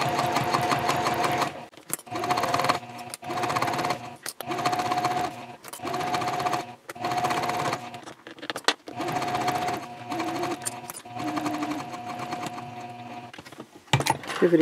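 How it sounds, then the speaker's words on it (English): A sewing machine stitches a messenger bag in short, rapid bursts, stopping and restarting repeatedly at close range while pivoting at corners. "Sew up the side."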